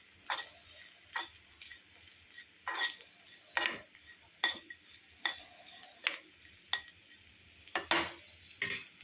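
Grated coconut roasting dry in a pan with curry leaves for a Kerala erissery, stirred in steady repeated scrapes about once a second over a faint continuous sizzle, close and alone with no voices.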